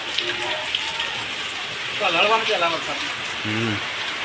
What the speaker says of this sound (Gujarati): વરસાદ તો સારું આવે.